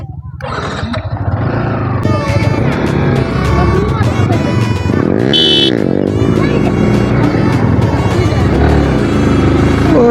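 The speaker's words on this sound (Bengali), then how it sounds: "সামনের চাকা তুলে যাচ্ছে" A motorcycle rides a wheelie with its front wheel lifted. A loud, close engine roar holds steady throughout and rises in pitch briefly, with voices heard under it.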